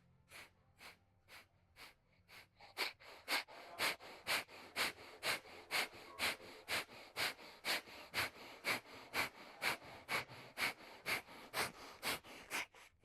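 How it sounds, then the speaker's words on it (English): Rapid breath of fire yoga breathing during a kriya, a steady train of sharp nasal exhales and sniffs that start softer and become louder and regular, about two per second, close and alone. "breath of fire."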